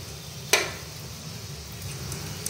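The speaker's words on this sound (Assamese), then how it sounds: "এইকেইটা ভাজি হৈ গ'ল 7টা, এইপিনে আৰু এইকেইটা ভাজি আছোঁ।" Balls of red potato gulab jamun fry in oil with a quiet, continuous bubbling sizzle, and a single sharp clink of a utensil near the start.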